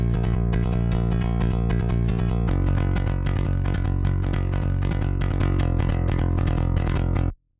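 Direct-input bass guitar run through a compressor for a pop punk mix, a loud, steady stream of punchy, evenly picked notes with pronounced attack, ending abruptly.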